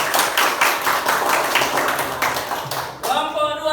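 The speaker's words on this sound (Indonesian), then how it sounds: "Ya, oke, tepuk tangan." Junior high classroom students clap for a student group, a brisk, rhythmic patter of many hands that fades out before a voice begins speaking.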